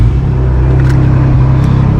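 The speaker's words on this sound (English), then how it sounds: "Let me turn the truck on." A Ford Raptor truck engine rumbles low and loud at close range, a steady throbbing idle just after starting, with no talking.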